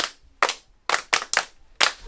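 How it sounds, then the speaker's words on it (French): A small group claps together in sharp, separate bursts, six crisp claps in an uneven rhythm, close and alone. "Applaudissez pour vous-même."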